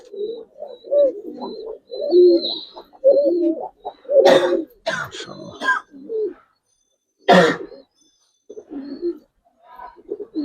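Giribaz pigeons coo close up in a series of soft, throaty, rhythmic phrases, broken by a couple of sharper, cough-like bursts and short pauses.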